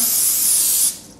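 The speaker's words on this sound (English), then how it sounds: "That way it doesn't stick to it, so just spray it down" Olive oil cooking spray hisses loudly and steadily onto a waffle iron in a continuous burst that stops abruptly and leaves a faint tail.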